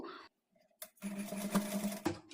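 A sewing machine hums in short close runs while stitching the neck part of a halter neck blouse, with a brief pause between bursts in a quiet room.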